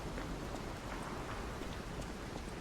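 Rain falls steadily in the video game Lies of P, a dense, even hiss of downpour with no other sounds over it.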